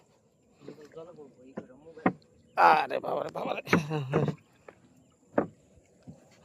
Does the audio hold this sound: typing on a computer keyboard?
no